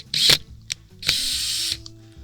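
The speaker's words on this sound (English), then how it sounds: "we're going to go in just a little bit with our screws just to get them started" A power drill drives screws to mount an RV powered awning, two bursts of close, whining motor spin separated by brief ratcheting clicks and short pauses.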